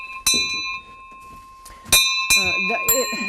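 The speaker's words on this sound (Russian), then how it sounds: "Вот эти колокольчики, да, колокольчики, и это еще как бы наших предков." Small jingle bells and handbells from Udmurtia ring in a few separate strikes, each a bright metallic clang with a lingering ringing tail, one early and a cluster near the end, with some voice mixed in.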